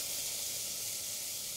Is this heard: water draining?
no